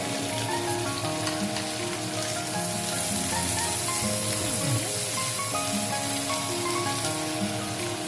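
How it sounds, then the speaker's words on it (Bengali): Ginger pieces and six or seven garlic cloves sizzle and crackle steadily in a hot frying pan for butter chicken, a dense continuous frying hiss with a low kitchen hum beneath and no talking. "এখানে নিয়েছি 4 টুকরো আদা আর 6-7 কোয়া রসুন, এটা আমি এখন দিয়ে দেব"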